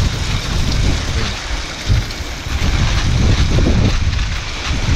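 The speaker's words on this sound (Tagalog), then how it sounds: "Damihan na natin paglagay ng tubig." Water pours onto plants in a loud, continuous splashing hiss, close to the mic, with rough buffeting like wind over it.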